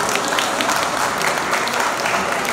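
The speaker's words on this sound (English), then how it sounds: "deserves a huge round of applause." An audience at a grand finale event for an exhibition in Birmingham breaks into sustained applause, dense steady clapping from many hands filling the room evenly throughout.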